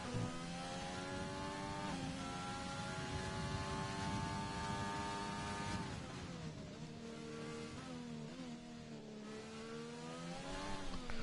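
Race car engine on a hot lap in a PS4 racing game at a France circuit, droning loud and steady with rising and falling revs and gear shifts throughout, alone without talk.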